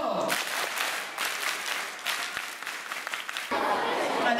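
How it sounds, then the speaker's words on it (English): Children at a Christmas party at Lohana Academy clapping for themselves, a burst of scattered applause from a group lasting several seconds with crowd noise mixed in. "You give yourself a mighty hand clap."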